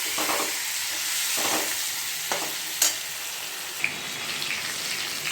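Cauliflower florets frying with turmeric powder in oil left from frying fish, a constant dense sizzle with faint stirring scrapes and a couple of small clicks, no voices.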